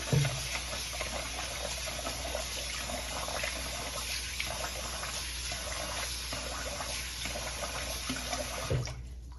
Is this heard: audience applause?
no